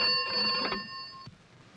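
An old telephone rings indoors, one bright, metallic bell burst lasting about a second before cutting off, fairly close and clear with a faint room hush after.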